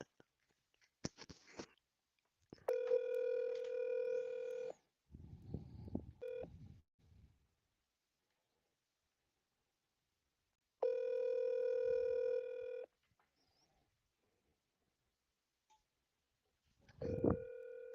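A telephone call: bursts of touch-tone dialing followed by long, steady ringback tones repeating with silent gaps, quiet and close, with faint rustling and handling noises between them.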